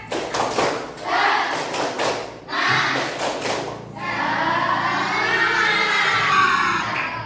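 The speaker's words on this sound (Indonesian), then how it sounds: "Oke, anak-anakku, tepuk semangat." A class of children performs the rhythmic tepuk semangat spirit clap, bursts of group clapping in a patterned beat, followed by the children chanting together loudly in a classroom.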